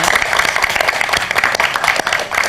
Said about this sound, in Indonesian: Oke, tepuk tangan yang luar biasa dong buat Prilly Latuconsina.